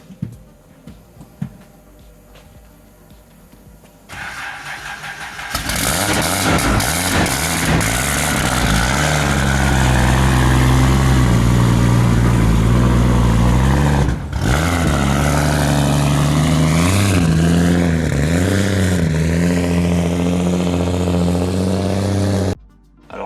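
A Nissan Skyline R32 with no catalytic converter and a large 3.5-to-4-inch exhaust starts after a few quiet clicks, then idles loud and raspy, rising and falling through repeated revs before cutting off.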